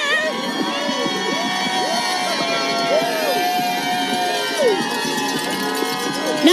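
Marathon spectators in Chicago's Chinatown cheer and shout along the course, a dense, steady roar of many voices with whistles and scattered yells up close, the crowd noise continuous throughout.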